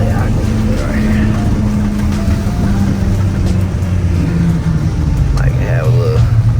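A lifted Ford F150 with a tuned 5.0 V8 on an E85 tune pulls hard, its deep exhaust drone loud and constant from inside the cab, rising in pitch as the truck accelerates.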